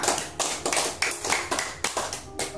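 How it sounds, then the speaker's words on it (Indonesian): A class claps together for everyone at the close of a lesson, a near, brisk series of group claps falling in regular bursts about every quarter second, with no talking over it. "Tepuk tangan dulu untuk semua"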